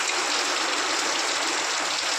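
A steady downpour of heavy rain roars evenly, broadband and close, like water rushing off surfaces, with no talk in the brief stretch.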